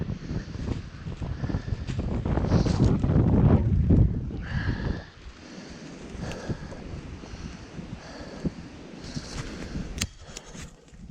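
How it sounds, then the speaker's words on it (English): Strong wind sweeping a steep, rocky hillside during a hike, loud rushing gusts that buffet the microphone for several seconds before easing into a quieter, steady breeze. "Man, windy."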